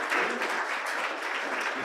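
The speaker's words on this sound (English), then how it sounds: "let's give Bill a round of applause" Audience members at a lunch meeting applaud a guest speaker, a short burst of steady, moderately loud clapping from a room full of people.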